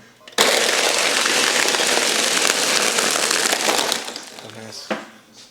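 An energy slushy container bursts with a sudden loud bang followed by a dense, sustained crackling spray-like hiss for several seconds that fades out, ending with a short thud and voices nearby.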